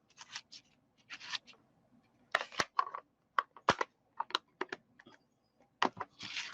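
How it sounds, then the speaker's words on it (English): Ink-covered craft paper being crumpled by hand in bursts of crinkling, close and fairly quiet, with several sharp crackles between the rustles. "And then you crumple it up again"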